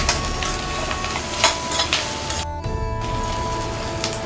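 Green chillies and onion sauté in hot oil, giving a steady close sizzle with occasional scraping and stirring knocks from a spoon against the pan.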